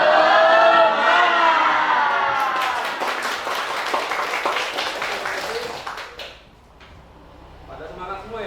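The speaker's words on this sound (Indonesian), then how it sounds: "Coba tepuk semangat." A class of Indonesian students performs a rhythmic spirit clap, with a run of quick, even claps in the middle after a loud tonal sound at the start, then fading to a quieter background.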